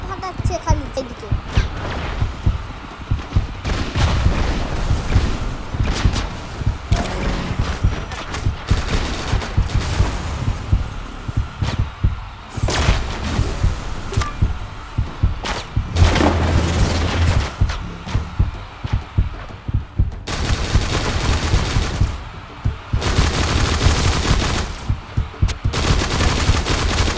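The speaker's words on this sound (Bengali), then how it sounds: "এই বম ফাটাচ্ছে খালি এদিকে।" Bombs explode amid rapid gunfire in the mobile shooter Frag Pro Shooter, loud booms and bursts crackling in irregular clusters, with a voice talking over the battle at times.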